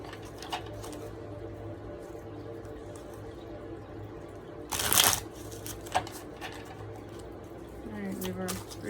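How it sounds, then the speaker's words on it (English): Tarot cards riffle in one quick, close shuffle around the middle of an otherwise quiet stretch, followed by a faint tap. "All right, let's shuffle"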